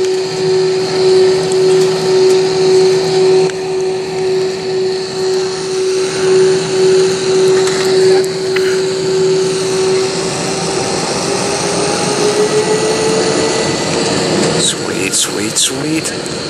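Delta Airbus A321 jet engines spooling to full takeoff thrust on a flight from Atlanta to Las Vegas, a loud steady roar with a sustained tone that rises in pitch near the end, heard from inside the cabin.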